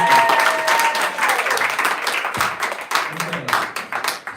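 An audience at a devotional gathering applauds, close loud clapping that is dense at first and thins into scattered, more separate claps toward the end.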